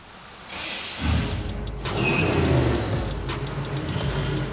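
A car fitted with a ship turbocharger runs on a dyno: a quiet hum jumps to a loud engine drone that rises and holds with a whining, rising tone, plus a few sharp clicks.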